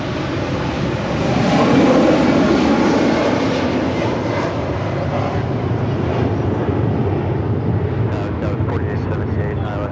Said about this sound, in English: That is Korean Air Cargo 8208 departing to Seoul.